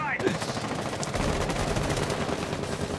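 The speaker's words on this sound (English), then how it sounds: "Lots of bullets being fired." Sustained automatic gunfire in Rainbow Six Siege during an ESL Premiership esports match, a dense stream of rapid shots lasting throughout, loud and close.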